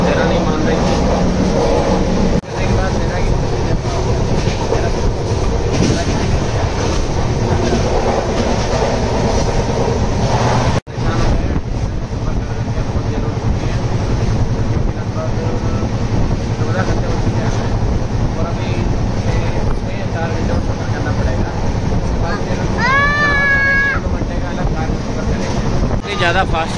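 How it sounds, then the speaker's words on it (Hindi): A fast-moving passenger train, heard from inside a carriage with an open door, gives a steady, loud rumble and rush of wheels and wind throughout, with a brief high whistle-like squeal near the end. "ज़्यादा फास्ट चल रही है ट्रेन"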